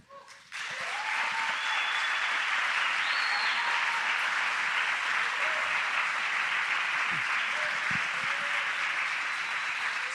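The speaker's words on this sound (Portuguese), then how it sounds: "recebessem com alegria e com uma salva de palmas pela vida da Bia e do Kleber" A church congregation breaks into sustained applause for Bia and Kleber, a dense, steady wash of many hands clapping that starts abruptly and holds loud and even throughout, with faint voices underneath.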